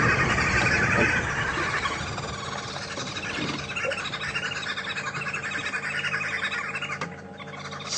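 Wild birds calling ahead of a morning safari drive vehicle at Djuma Game Reserve, a busy layered chorus of repeated chirps and whistles at moderate distance over a low steady background hum.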